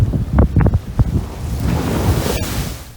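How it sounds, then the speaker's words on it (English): Strong wind buffets a sailboat's deck as waves slosh and splash against the hull, loud and close, with gusts roaring steadily over the surf and no talk, while sailing near Washington Island, Wisconsin. "We had plenty of wind going back."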